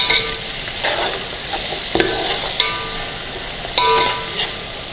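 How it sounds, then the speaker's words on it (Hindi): Fried golden onions go into a biryani pot with steady sizzling and scraping stirs, with a few sharp clinks of the spoon against the pot over a continuous hiss. "थोड़ा सा फ्राई गोल्डन प्याज इसके अंदर हम डाल देंगे"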